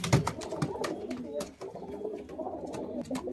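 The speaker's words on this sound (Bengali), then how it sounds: "পায়রা কিন্তু ডাক করছে, একদম গরম ডাকের পায়রা" Pigeons coo steadily at close range in low, repeated calls, with sharp clicks and flutters scattered through the calling.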